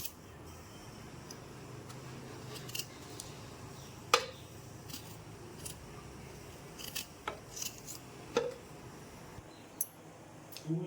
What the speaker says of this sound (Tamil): பெரிய நெல்லிக்காயை கட் பண்ணி